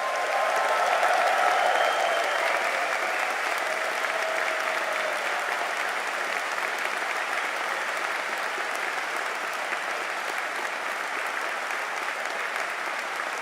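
A large indoor audience at a University of Liverpool graduation ceremony applauds and cheers in a hall. Dense, sustained clapping fills the whole stretch at an even level, loudest near the start, with no speech over it.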